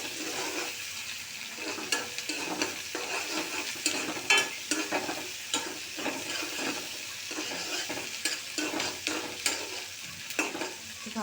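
Potatoes and yardlong beans frying in a pan with onion, turmeric and chili powder, a steady close sizzle broken by repeated scraping stirs throughout.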